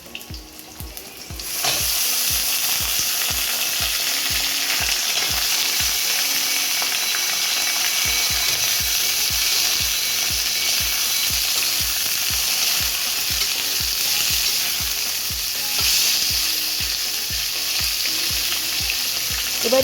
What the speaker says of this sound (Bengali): এবার একটু ভাজা হতে রেখে দেব।